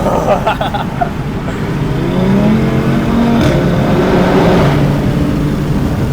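An Audi RS3 engine roars and pulls hard under acceleration, heard close from inside the car, with a rising drone and some background voice.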